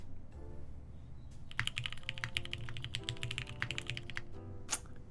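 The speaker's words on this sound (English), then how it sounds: "They are all sound clips of different typing." Rapid computer keyboard typing, many quick clicking keystrokes in uneven bursts over a low hum, clear and close, with no talking.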